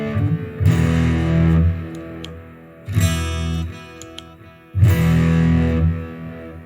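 Electric guitar through a Mosky Black RAT distortion pedal with a treble-cut control, heavily distorted: three loud strummed chords, each ringing out and decaying before the next, with no talking.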